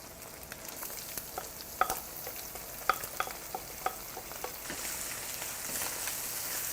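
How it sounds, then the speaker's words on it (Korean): Ground meat browned for about ten minutes in an oiled pan, with prepped vegetables just added, fries with a steady crackling sizzle and scattered sharp spitting pops, close and even, with no voices. "이 기름에 야채에 들어있는 수분이 들어가면서 기름이 좀 튈 수 있거든요"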